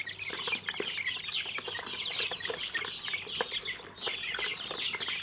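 Young domestic chickens about a month old cluck and peep in a dense, continuous chorus at a poultry pen, with scattered sharper calls and light wing flutters.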